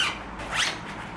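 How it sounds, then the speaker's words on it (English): A zipper runs along a mesh travel pouch, a short raspy pull that rises and fades in about a second, close and clear. "It zips up."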